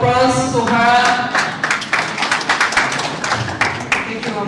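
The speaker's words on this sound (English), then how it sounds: "So you can welcome. With a round of applause to her." An audience at a World Cancer Day celebration gives a speaker a modest round of applause. Scattered, uneven claps follow a brief spoken introduction and stay moderately close.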